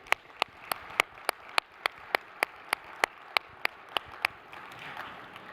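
Conference attendees clap to welcome newcomers, with one close, crisp clapper beating a steady rhythm of roughly three claps per second over faint, sparse background clapping.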